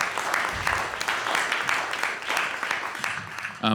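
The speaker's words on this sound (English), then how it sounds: "just a warm round of applause for Colin" Warm round of audience applause for a guest at a design talk, moderate and steady for a few seconds, slightly distant and diffuse, ending with a short burst of louder sound.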